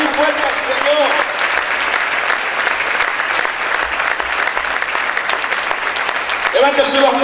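A church congregation claps loudly during a sermon, a sustained dense roar of applause from many hands, with a voice speaking briefly at the start and again near the end.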